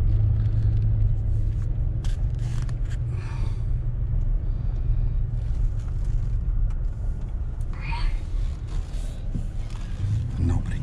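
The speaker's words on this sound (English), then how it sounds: "Coming, Al's car coming way down, but we can beat it, I think." A car approaches along a country road near a farm, a steady low engine rumble holding throughout at moderate loudness.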